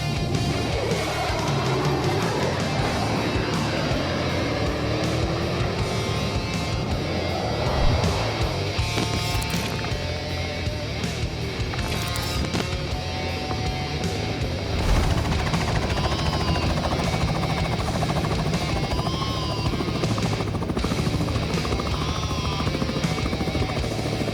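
A Robinson R44 helicopter's engine and rotor roar loudly and steadily throughout takeoff, with a dense, thumping wash of noise that stays close and constant.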